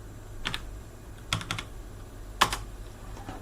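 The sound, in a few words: typing two dots on a computer keyboard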